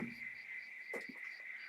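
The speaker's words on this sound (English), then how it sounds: "the frogs outside were making such a horrendous din" Frogs croak outside a window, a faint, steady chorus of high, buzzing calls with a short louder burst in the middle.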